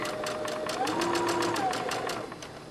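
A sewing machine stitches a dress along smooth fabric, close by, running in a rapid, even train of about a dozen stitch pulses before easing off at the end.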